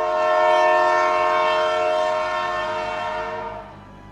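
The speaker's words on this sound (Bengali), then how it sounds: "হঠাৎ ইঞ্জিনটা হুইসেল দিয়ে উঠল।" A train engine sounds a loud, sustained whistle on a station platform, one long steady harmonic blast held for several seconds before it trails off, with no voices over it.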